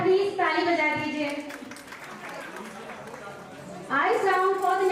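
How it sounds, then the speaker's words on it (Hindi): An audience at a live housie ticket event claps for a little girl, a steady wash of applause running under a loud, continuous announcer's voice over the microphone. "छोटी सी बच्चे के लिए जरा प्लीज ताली बजा दीजिए।"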